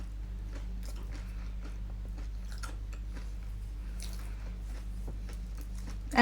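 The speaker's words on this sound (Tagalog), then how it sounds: "And crunchy yung crust niya." Crunchy chicken feet adobo being bitten and chewed close up, with repeated crisp crunches and soft wet squishes over a constant low background hum.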